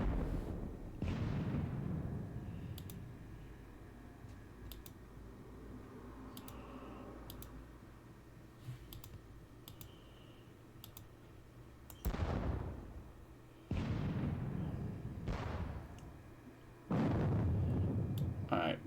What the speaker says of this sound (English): let's start with our artillery